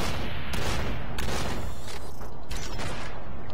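Gunfire from a gun in Cortex Command, a dense continuous burst of loud rapid shots with metallic mechanical clatter, close and sustained throughout.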